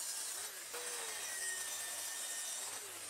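A saw fitted with a finishing blade cuts through wood with a steady, continuous whine and rasp, faint and even in level, with no talking.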